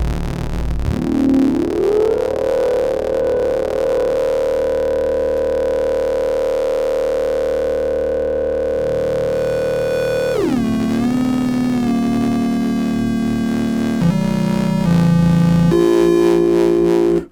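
Rich, buzzing harmonic tones from a Dreadbox Erebus 3 analog synthesizer using triple ring modulation across oscillators 1 to 3. Sustained notes glide in pitch and step to new pitches, loud and continuous, with no talking.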